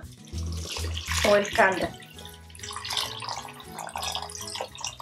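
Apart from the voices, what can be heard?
pouring water into a boiling pot of meatball soup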